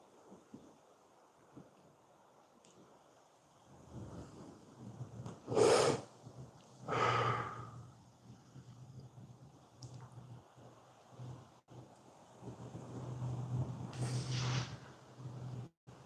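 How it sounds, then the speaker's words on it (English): Strong wind buffets a microphone beside a lake, coming in heavy rumbling gusts that swell and fade against a quiet background. "wish this wind will calm down a little bit. It's crazy."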